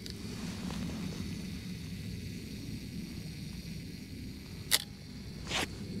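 A single-lens reflex camera's shutter fires on self-timer outdoors, two sharp clicks near the end, close and distinct over a low steady rumble of wind and ambient noise.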